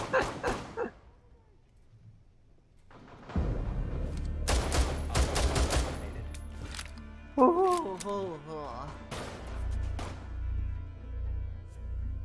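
Gunfire from the tactical shooter Rainbow Six Siege: a cluster of loud sharp shots in the middle, followed by rumbling game noise, with young men chatting in Hungarian before and after.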